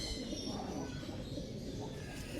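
Pigeons coo softly amid a busy background hum, low throaty calls repeating faintly over steady ambient noise.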